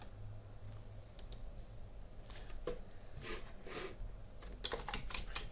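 A file name typed on a computer keyboard: a run of close, light key clicks in short irregular bursts over a quiet room hum, with no talking.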